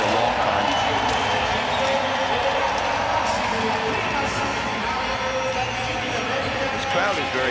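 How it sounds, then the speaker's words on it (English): A large crowd roars and cheers at a para ice hockey game in Milano, a steady wash of cheering and whoops throughout, with a commentator talking over it. "This crowd is very happy, I'll tell you that much"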